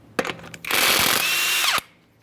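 A power tool spins a 21mm lug nut off a 2015-2020 Ford F-150 wheel: a short tap, then a loud whirring burst of about a second that winds down abruptly.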